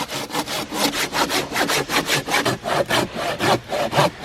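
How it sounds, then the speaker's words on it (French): Hand saw cutting through a tree trunk in the Korean countryside, a steady rhythmic rasp of about a dozen push-pull strokes, close and loud with no voices. "Il est en train de scier le tronc d'arbre avec moi."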